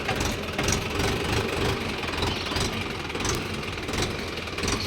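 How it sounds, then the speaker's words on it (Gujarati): A tractor engine runs steadily and close by, a continuous rumbling drone with no break across the whole stretch and no talking over it. "ટ્રેક્ટર હાલે છે"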